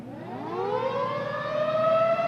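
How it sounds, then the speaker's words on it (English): An outdoor tornado warning siren in Cozad sounds during a disaster drill, its wailing pitch winding up steadily and holding loud and sustained. "Cozad's outdoor warning sirens are sounding."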